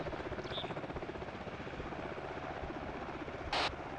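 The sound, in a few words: helicopter in the video game ArmA 2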